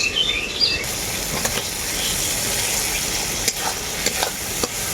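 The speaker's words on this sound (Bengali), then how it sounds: "এরপর আমি এর মধ্যে দিয়ে দেব কেটে রাখা টমেটো" Spice paste for a chicken and young jackfruit curry fries in a pan as chopped tomatoes go in and get stirred, giving a steady close sizzle with occasional scrapes of the spoon.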